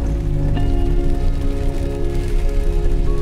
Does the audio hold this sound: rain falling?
yes